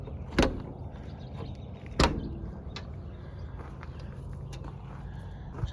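The rear door of an overland camping trailer opens, its latch clicking and thumping twice, followed by quieter rattles and a lighter knock, with faint ambient noise in between.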